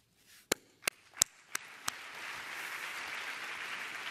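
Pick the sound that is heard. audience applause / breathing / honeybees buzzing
audience applause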